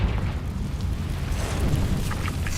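Confringo explosive fire spell from Hogwarts Legacy erupting in a heavy, rumbling blast with sustained low roar and crackling fiery debris, loud and close with no talking.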